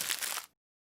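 Computer trash sound effect imitating paper being scrunched up: a brief, bright crinkling rustle lasting about half a second, then silence, with no voices.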